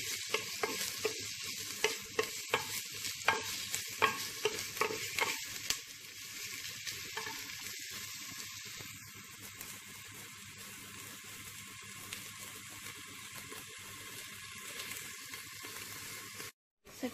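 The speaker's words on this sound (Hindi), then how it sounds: "फ्राई करना है अनियंस को जब तक कि गोल्डन ब्राउन ना हो जाए तो अभी इसमें थोड़ा सा टाइम है चम्मच हिलाते जाएँ ताकि एक जगह से जलने ना पाए अनियन" Onions fry in a clay pot while a spoon stirs them, first with a run of sharp knocks and scrapes against the pot, then a quieter, even sizzle that carries on until an abrupt cut.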